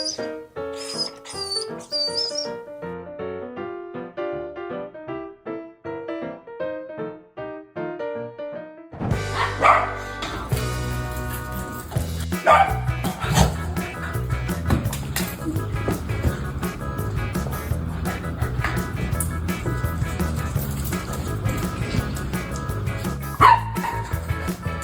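Giant dogs bark in loud, irregular bursts over a busy, cluttered background of household commotion, following a quiet musical opening.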